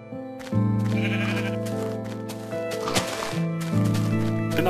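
Sheep in the video game Minecraft bleat several times in short, loud, repeated calls over a steady game music background, with no talking.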